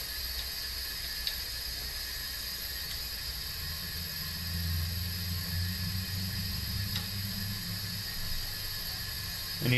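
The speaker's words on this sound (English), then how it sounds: "you hear the air coming out the tailpipe" Air hisses steadily out of the exhaust tailpipe of a 2.4 PT Cruiser with a misfire at idle, a continuous broadband rush with a low rumble swelling midway, heard alone without talk.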